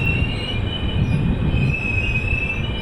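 Bhubaneswar Rajdhani Express arriving at Dhenkanal station at night, a steady loud rumble of rolling wagons with a high, sustained wheel squeal throughout.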